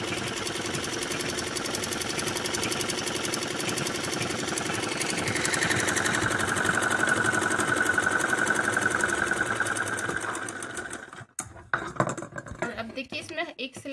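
Sewing machine stitching a Patiala salwar, a fast rhythmic mechanical whirr that runs steadily, rises in pitch midway, then stops abruptly into softer handling clatter, with someone speaking over it.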